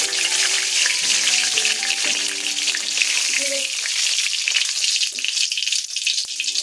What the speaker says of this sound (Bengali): তেলটা একটু গরম করে দিয়ে দিচ্ছি গোটা জিরে, 2টো শুকনো লঙ্কা